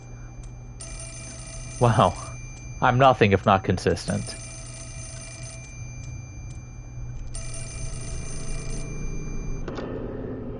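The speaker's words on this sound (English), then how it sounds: "Ooh, phone." A telephone rings repeatedly in the Fatal Frame 4 video game, a steady electronic trill carrying on under a musical drone, while a voice talks briefly over it near the start.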